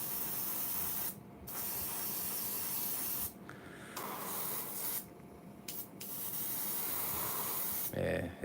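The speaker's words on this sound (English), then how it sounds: "And we're spraying it through the Dragon Air" Dragon Air airbrush with a 3.3 needle spraying SMS Rust paint, giving a close, steady hiss that cuts out in several short pauses between bursts.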